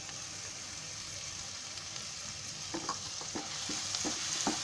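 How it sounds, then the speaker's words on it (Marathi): Onion and coconut paste frying in butter with garam masala over raised heat, a steady close sizzle with intermittent stirring scrapes growing slightly louder toward the end. "आता त्याच्यामध्ये कांद्याची आणि खोबऱ्याची पेस्ट टाकते."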